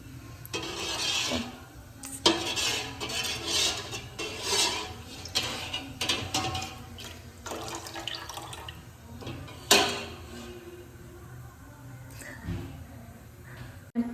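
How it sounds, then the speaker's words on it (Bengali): Rice with bay leaves is stirred in a pot for payesh, producing irregular gritty scraping and rubbing with occasional sharper knocks against the metal. "চাউল আর এখানে তেজপাতা আমি অ্যাড করে দিয়েছি এখন। আর এটা একদম নাড়িয়ে যেতে হবে।"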